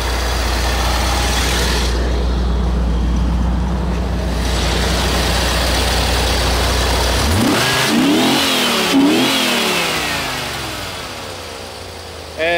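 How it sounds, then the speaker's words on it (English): A 230-horsepower L98 V8 from a 1985 Corvette C4 with 80,000 miles runs at a steady, loud idle, then revs up and down in several sharp, rising-and-falling bursts near the end. "This is the 230 horsepower L98 engine."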